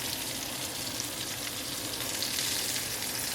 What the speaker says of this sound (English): shrimp takes a pretty, short while to cook, so it should not take more than a minute to get that done